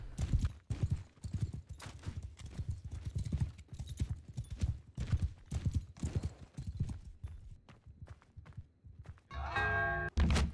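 Galloping horse hooves in Mount and Blade 2: Bannerlord pound in a quick, uneven clip-clop across the whole stretch, loud and close, with a brief whinny-like burst near the end.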